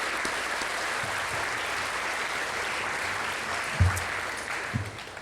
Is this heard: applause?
yes